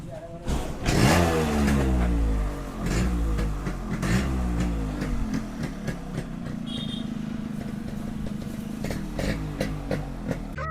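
Yamaha RX100 motorcycle with its original stock exhaust silencer refitted, revving repeatedly with a sharp blip near the start, then settling into a steady, close, fairly loud idle with occasional throttle pulses.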